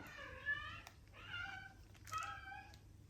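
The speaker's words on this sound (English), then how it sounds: "Can you hear that? That's the cat." A house cat meows three times at close range, each call drawn out and rising and falling, with short pauses between them against a quiet room.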